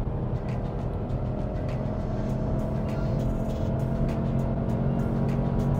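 Engine and road noise from a Nissan Magnite 1.0 turbo petrol manual, accelerating hard through second and third gear past 100, a steady close cabin drone with rising tones and no talk.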